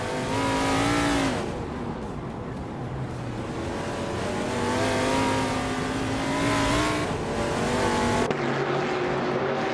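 Race car engines in a racing video game rev and drone steadily throughout, with shifting pitch as the cars accelerate and a sharp change in tone near the end.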